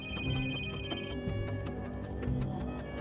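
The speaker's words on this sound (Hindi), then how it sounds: "फोन बजने की आवाज।" A telephone rings loudly and close by, its bell repeating in quick bursts for a few seconds with no voices.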